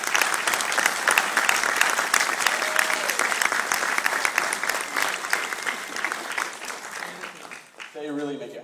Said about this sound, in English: I think that we owe our staff a big round of applause for the hard work